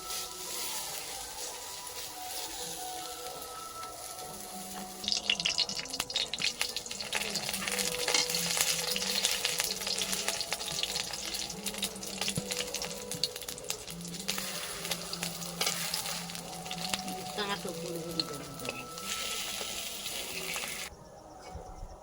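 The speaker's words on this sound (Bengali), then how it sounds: "তো বন্ধুরা আমাদের লাউ কোলাচি ভাজা হয়ে গেছে, একটা একটা করে তুলে নিচ্ছে।" Bottle gourd pakoras fry in hot oil with a steady, soft, continuous sizzle and crackle that swells slightly midway.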